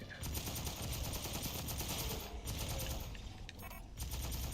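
Sustained automatic gunfire from a weapon emptying its magazine in the Aliens: Fireteam Elite video game, a dense continuous rattle of rapid shots with a brief dip midway, loud and close.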